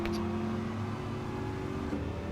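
A Corvette race car engine drones steadily in Gran Turismo 7, a continuous mid-level hum with a slight rise near the end and no talking.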